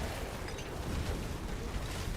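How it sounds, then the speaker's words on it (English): Fireball spell explosions in Diablo 4 erupt in a dense, continuous rumbling roar of overlapping blasts and crackles, loud and sustained with no pauses or speech. "The explosions of Fireball definitely don't do anything."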